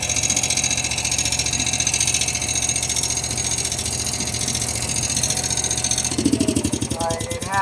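Small generator on a camper runs steadily after a choke start, a close, even engine drone with a change in tone near the end as it settles; someone talks over it.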